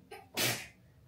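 A single person sneezes once, a short sharp burst preceded by a quick intake of breath, close and fairly quiet on a street outing in Akihabara, Tokyo.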